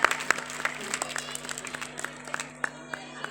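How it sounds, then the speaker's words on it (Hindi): A school audience of students and parents in Indore claps to welcome a guest speaker at a motivational talk: scattered, fairly sparse claps with a steady background hum, moderately quiet, no voices. "थोड़ी तालियां बजाएंगे तो गर्मी भी आ जाएगी और सर का स्वागत भी बहुत अच्छे से हो जाएगा।"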